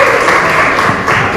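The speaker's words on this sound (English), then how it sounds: "Huge round of applause once again." An audience at a Grazia magazine cover launch event applauds in a loud, sustained burst of clapping.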